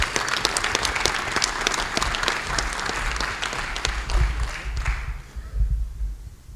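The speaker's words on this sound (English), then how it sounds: "Give them a round of applause, ladies and gentlemen." Dense audience applause fills a business meeting hall at an annual fundraising gathering, a steady roar of many hands that thins and fades toward the end.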